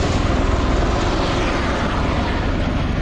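Aircraft taking off en masse from RAF Mildenhall for D-Day celebrations, a loud, dense engine and propeller drone holding steady and unbroken throughout, with no talking.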